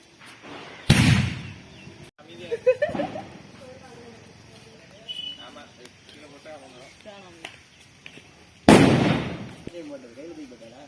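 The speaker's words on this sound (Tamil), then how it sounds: "ஒரு புதுவிதமான வெடி வந்திருக்கு நம்ம ஊருக்கு" Two loud, sharp firecracker blasts go off during outdoor Diwali celebrations, several seconds apart, with people chattering and calling out between the bangs.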